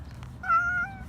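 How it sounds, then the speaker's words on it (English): A big male cat gives a single clear, close meow in the middle of an otherwise quiet moment. "This is one of my cats, Carl."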